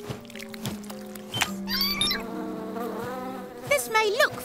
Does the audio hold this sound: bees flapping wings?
yes